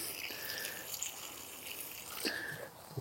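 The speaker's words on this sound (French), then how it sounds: "Allez, on n'oublie pas l'arrosage" Newly planted strawberry plants in a garden bed watered, a soft steady stream of water pattering onto soil, faint and close, with a few small splashes and a brief surge toward the end.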